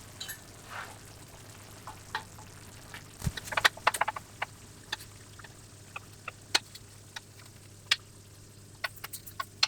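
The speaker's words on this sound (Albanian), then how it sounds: "Kur të skuqem specat me një anë, tash i kthejmë në anë tjetër." Stuffed peppers frying in a pan give soft, scattered crackles and pops over a low background hum, quiet and intermittent, with no talking.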